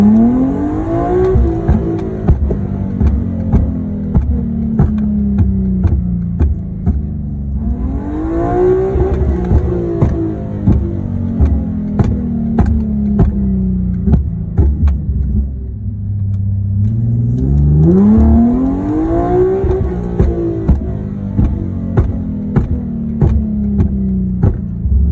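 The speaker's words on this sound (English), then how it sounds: "you just rev it all the way out, and then on deceleration, all you gotta do is tap and blip the throttle on deceleration" A Nissan G37 or 370Z with a flame map revs hard several times, each rise followed by a drop as the throttle is blipped on deceleration, with sharp pops and crackles from the exhaust throughout, loud and close.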